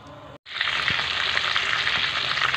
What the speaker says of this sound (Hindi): ये एग प्लांट फ्राइज हमारे बहुत अच्छे से फ्राई हो रहे हैं